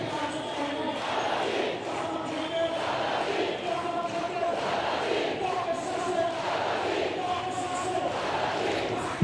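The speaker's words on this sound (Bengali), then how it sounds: "আমরা শুনতে পাচ্ছি এই মুহূর্তে আজাদি স্লোগানে" A large protest crowd chanting Azadi slogans at Shahbag square, a dense, continuous roar of many voices with a rhythmic chanting pulse, loud and sustained throughout.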